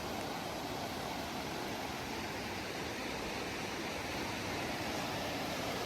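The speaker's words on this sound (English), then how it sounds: "Check out this beautiful spot on the river." River water on the Foothills Trail rushes in a steady, dense wash, a constant close roar of flowing current with no pauses and no voices.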